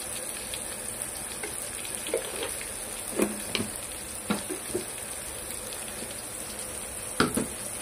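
Turmeric and homemade masala spices fry in a pan with a soft, steady sizzle, broken by a few sharp clicks and scrapes of stirring.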